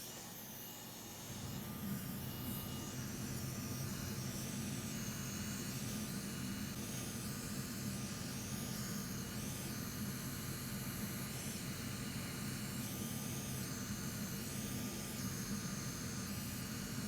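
A hot air rework station runs at maximum airspeed and 500 °C during solder repair on a spectrum analyzer board, giving a loud, steady rushing hiss that starts abruptly and holds constant throughout.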